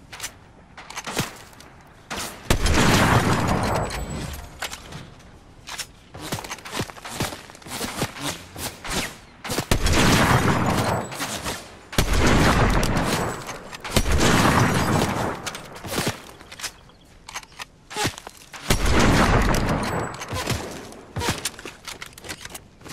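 Fortnite gunfire comes in repeated heavy bursts of shots and booms separated by quieter gaps, loud and close, with clicks and movement noise between volleys.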